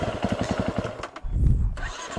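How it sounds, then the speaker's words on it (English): A KTM 350 EXC-F dirt bike engine cranks with rapid rhythmic chugs, catches briefly, then fires into a loud close low rumble before settling into a rougher idle, heard on a cold morning through a helmet-mounted mic. "with the background noise of the motorcycle running"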